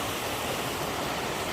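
Turner Falls, the largest waterfall in Oklahoma, pours in a steady, dense roar of rushing water, close and loud throughout with no break.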